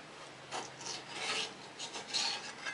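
A file rasps along the edge of a handmade steel card scraper in a series of short, close, gritty strokes, each a brief scraping burst, no voices.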